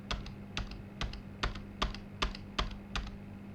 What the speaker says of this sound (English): Here as well, I can type a question mark to get a list of commands.